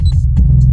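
A Bass Killer Hertz sound-off CD pumping through 6x9 speakers in a Ford Escort Cosworth, a loud, thick bass drone with brief pulses on top, heard alone in a short burst.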